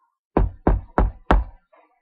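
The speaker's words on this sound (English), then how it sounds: "there was a knock at the door." Four firm knocks on a wooden door in quick succession, close and loud, followed by a faint trailing sound.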